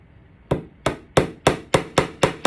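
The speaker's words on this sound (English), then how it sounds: "hammer it in a little bit more" Nails being hammered into a wooden board for sunflower string art, seven sharp, evenly spaced close hammer strikes in a steady rhythm, with no talking.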